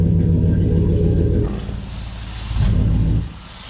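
A truck engine with an exhaust leak rumbles close by, loud and deep, easing off partway through, then surging briefly before settling to a lower idle.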